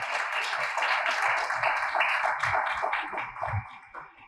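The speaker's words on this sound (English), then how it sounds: "Maybe we should clap hands for them" An audience claps for a team at a formal meeting, steady close-packed applause that holds for several seconds, then thins out and fades toward the end.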